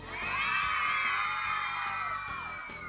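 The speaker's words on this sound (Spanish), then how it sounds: "A ver cómo gritan las chicas." A studio audience of girls screams and cheers for a young boy on a TV show, a loud, sustained chorus of high shrieks and whoops swelling and holding for nearly three seconds before easing slightly.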